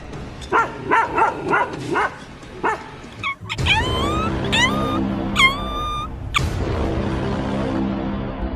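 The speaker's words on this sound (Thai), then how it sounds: "หมามันเห่าอะไรกันเนี่ย" Several dogs bark and yip in quick bursts at close range, the barks growing sharper and higher, with a whining, whimpering dog joining in over the later stretch.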